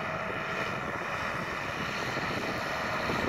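Steady, continuous drone of a flying trike (ultralight) engine in flight, a broad loud roar with a constant tone that holds without a break.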